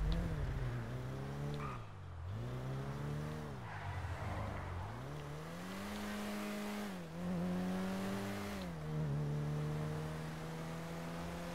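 A car driven in the video game GTA V hums along fairly quietly, its engine note climbing and dipping with each gear change and throttle shift across a sustained stretch.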